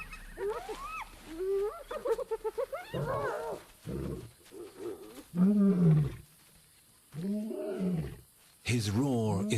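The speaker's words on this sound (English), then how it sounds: "His roar is a powerful weapon." An old male lion roars and growls in uneven bursts while taking back an impala kill from scavengers. The calls are loud and rough, with short gaps between them and a final deep, drawn-out roar.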